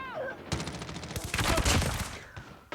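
Type-25 rifle in a video game firing a rapid automatic burst of sharp, close gunshots, with a short pause and a final few shots near the end.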